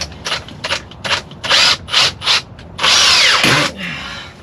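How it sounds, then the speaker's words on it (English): A worn power drill boring into wood, loud and close, in repeated short whirring bursts followed by one longer sustained run with a pitch drop as it bogs down. "This drill's seen better days."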